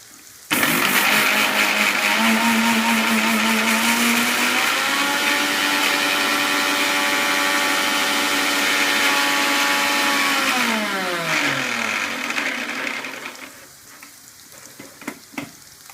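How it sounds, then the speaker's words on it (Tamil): A kitchen mixer grinder runs loud and close with a strong, steady motor whine that climbs in pitch for about ten seconds, then winds down and fades as it stops. "அதை மிக்சியில் போட்டு"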